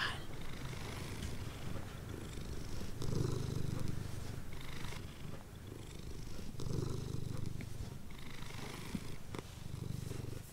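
A domestic cat purrs steadily and close up in a soft, continuous rumble that swells and eases with each breath, with no voices.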